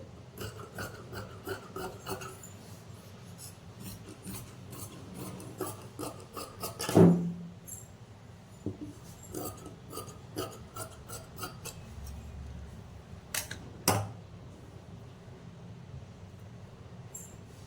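Scissors cut through blouse fabric, leaving a half-inch margin, as a steady faint rasping snip that runs throughout, with a couple of louder knocks partway.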